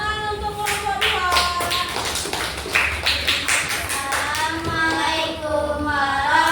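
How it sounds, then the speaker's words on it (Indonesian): Classroom students clap for a group after its poster presentation, a ragged burst of close hand claps mixed with children's voices talking and calling out. "Oke, tepuk tangan untuk kelompok 2."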